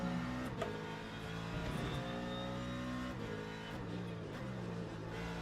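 A Porsche engine drones in a racing video game, a steady, fairly loud hum holding a constant pitch with slight shifts in revs and no pauses.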